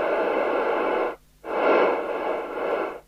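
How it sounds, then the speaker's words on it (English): Loud, steady FM static hisses from the speaker of an LCL Communicators NI440DX CB27/81 UK FM CB radio on the service bench, breaking off for a moment before rushing back in. "Yes, FM hiss does sound right."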